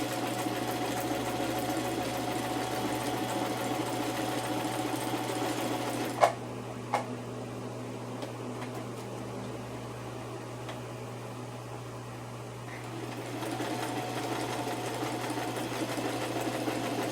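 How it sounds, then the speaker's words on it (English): Home sewing machine stitching with plain blue thread in a crafting area, a steady close mechanical whir that breaks off for a few seconds with a couple of clicks, then resumes. "I'm going to put stitching around there too."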